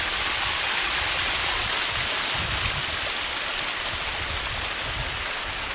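A mountain stream rushes past up close, a loud, dense and unbroken flow of water with no voices, heard in the Žepa area of Bosnia.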